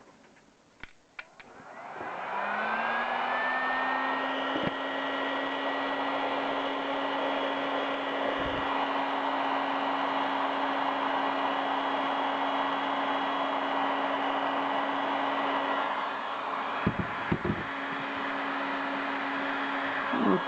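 Heat gun blowing hot air, a steady loud whooshing roar with a tonal hum, starting after a couple of clicks and running continuously close by.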